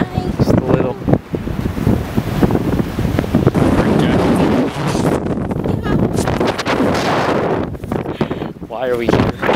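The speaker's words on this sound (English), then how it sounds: "I've never felt this much wind." Strong wind roars across the microphone at a beach, a loud continuous buffeting with gusts, while people talk over it.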